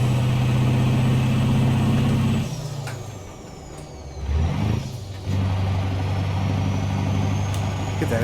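Diesel truck engine in American Truck Simulator driving through the California desert, a loud steady low drone that drops away mid-clip with a brief revving swell before the engine settles back into a constant heavy rumble.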